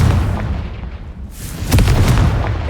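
Two booming blasts from the Confringo fire spell in Hogwarts Legacy, a rumbling explosion followed about a second later by a second, louder burst with crackling debris, loud and close with no voices.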